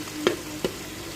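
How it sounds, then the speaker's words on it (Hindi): Spices for an aloo lobia curry fry in a pan with a low, steady sizzle, broken by two brief stirring scrapes of a spoon close by. "हम अपने मसाले को 2 मिनट तक अच्छी तरह फ्राई कर लेते हैं, भून लेते हैं।"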